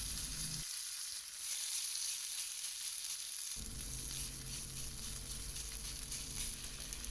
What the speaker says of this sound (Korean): 먼저 감자전 한 판을 앞뒷면으로 예쁘게 구워줍니다.